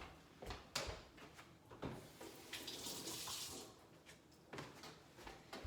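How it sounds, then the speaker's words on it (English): A dropped piece of yucca gets rinsed under a running kitchen tap, with a steady close splash of water into the sink and a few knocks and clatters around it. There is no talking. "Let me just rinse that off."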